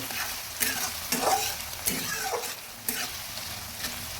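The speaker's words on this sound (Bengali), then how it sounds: "পেঁয়াজ কুচির সঙ্গে রসুন কুচিগুলো দিয়ে দিচ্ছি এবার ভালোভাবে ভেজে নেব" Quiet sizzling of chopped onion and garlic frying in a pan, broken by a few scraping stirs at a steady pace.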